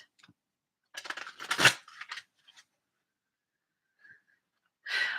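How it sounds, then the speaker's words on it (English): Tarot cards are shuffled in a couple of short riffling bursts, close and crisp, separated by quiet pauses. "One more shuffle."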